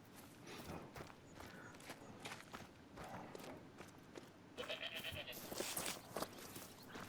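Goats bleat among steady outdoor noise and shuffling footsteps, the calls growing louder and busier toward the end.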